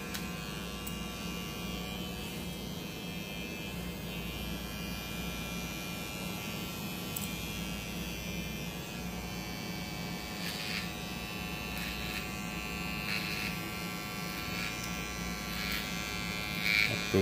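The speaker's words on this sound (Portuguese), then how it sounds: "Fazendo um pente corrido com a maquininha para deixar o cabelo bonito." An electric hair clipper buzzes steadily and quietly as it runs through short hair in a barbershop-style cut, a continuous hum with no talk over it.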